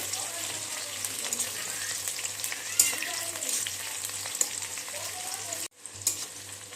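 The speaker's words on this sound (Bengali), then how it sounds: "পেঁয়াজটা একটু ভালো করে লাল লাল করে ভেজে নিতে হবে" Chopped onion fries in oil with a continuous crackling sizzle, punctuated by occasional stirring clinks and scrapes, before a brief cut and the sizzle resuming.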